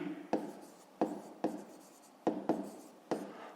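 Pen or pencil writing out a fifth-grade math answer by hand, with six sharp taps and short scratchy strokes in an uneven rhythm, close and fairly quiet, with no talking.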